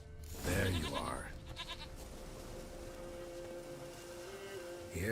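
A goat in The Witcher 3 lets out a loud, wavering bleat near the start, followed by a shorter bleat just after, while quiet rain-like ambience continues underneath.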